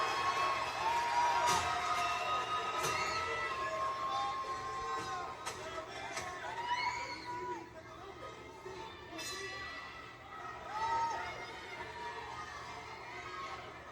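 Crowd at a live fight event in Bethlehem, Pennsylvania cheering and shouting as a fighter pumps them up, a dense steady roar with scattered whoops and higher voices rising and falling throughout.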